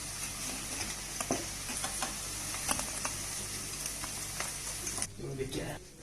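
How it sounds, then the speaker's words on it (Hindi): Okra pieces frying in hot oil give a steady, close sizzle with scattered pops and stirring clicks, easing off near the end as the fry quiets. "भिंडी हमारी फ्राई हो चुकी है। अब मैं इन्हें निकाल लूंगी।"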